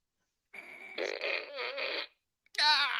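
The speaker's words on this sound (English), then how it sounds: "when he farts too" Puppet named Marv letting out two bursts of fart noise: a longer sputtering, wobbling blast followed after a short pause by a second, higher squeaky one, close and loud against silence.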